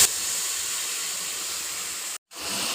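Whole spices, dried red chilli and cumin seeds sizzle in hot oil as masala goes in for stuffed aloo dum. A loud, steady hiss cuts out briefly and then resumes.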